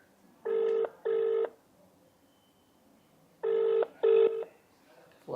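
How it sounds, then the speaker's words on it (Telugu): A phone ringback tone sounds in paired bursts, two short rings, a pause, then two more, steady and clear with quiet background hiss. "రింగ్ అవుతుంది లిఫ్ట్ చేస్తున్నారు"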